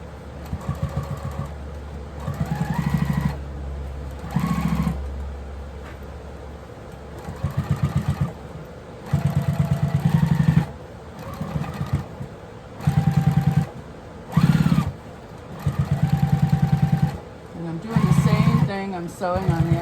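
A sewing machine stitches a quilted jelly-roll tote bag in repeated short runs of fast, steady whirring, close and fairly loud, pausing between bursts while a person talks in the gaps.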